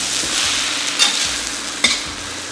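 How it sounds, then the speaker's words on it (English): Water spinach being stir-fried in a hot wok sizzles steadily, broken by two sharp metallic scrapes of the spatula against the pan. "Give it a good stir"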